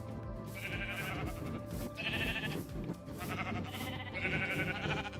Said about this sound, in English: I have so many different sheep already.